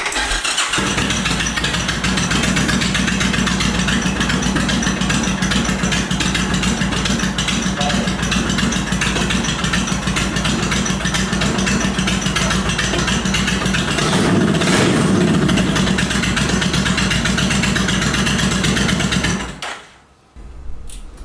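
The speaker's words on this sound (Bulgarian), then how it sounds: "Сега ще опитаме да запалим мотора." A custom-built motorcycle engine turns over and settles into a steady, loud idle that runs for nearly twenty seconds before cutting off abruptly.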